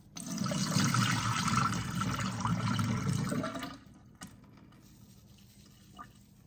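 Cold tap water pours steadily into a cooking pot for grits, a full rushing splash for about four seconds before the flow stops, leaving quiet room tone with a couple of faint clicks.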